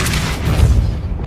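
A Depulso spell cast in the video game Hogwarts Legacy, a short heavy booming burst with a deep low thump, loud and close, fading within about a second.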